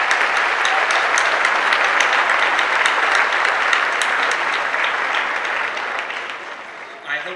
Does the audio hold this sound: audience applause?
yes